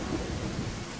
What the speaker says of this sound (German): Gerade übelstes Ungewetter.